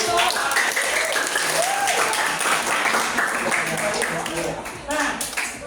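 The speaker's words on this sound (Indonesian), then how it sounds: "tepuk tangan dulu" Classroom audience applauding a student during a teaching session in an Islamic religious education class, a steady round of clapping mixed with chatter and voices throughout.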